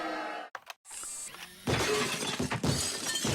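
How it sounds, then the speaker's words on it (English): Glass smashing as a sound effect in the party game Jackbox Earwax: a sharp shatter with scattered tinkling debris, loud and close, following a short silent gap and preceded by brief noisy bursts. "Smashing of glass."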